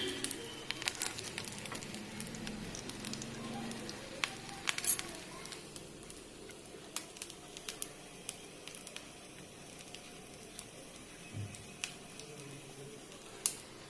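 Leftover rice cutlets shallow-fry in about four spoons of oil in a pan over a medium flame, giving a faint, steady sizzle scattered with sharp little crackles and pops.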